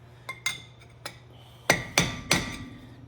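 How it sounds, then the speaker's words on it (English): Screwdriver tapping the edge of a front brake rotor on a 2006 Mazda/Ranger 2WD to seat it onto the spindle: three faint light taps, then three louder sharp metallic strikes close up, with no talking. "Just tap that edge, spin the rotor, tap it in like that"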